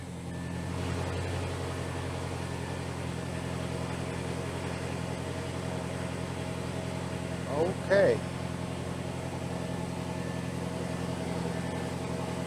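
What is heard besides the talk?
Audi 4.0 TT car engine idling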